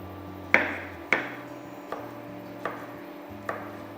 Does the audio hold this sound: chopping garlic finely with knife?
yes